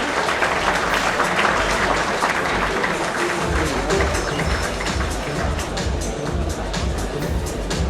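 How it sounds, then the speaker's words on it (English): Sustained applause from a large audience at a corporate anniversary celebration with Bollywood celebrities, a dense, steady roar of clapping that stays loud and unbroken throughout. "Round of applause for them, ladies and gentlemen."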